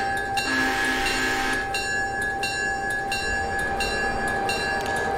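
Train in the Railroader video game: steady, loud rumble of rolling rail cars with rhythmic metallic clicks and clanks repeating along the track, a sustained horn-like tone ringing throughout, no voices.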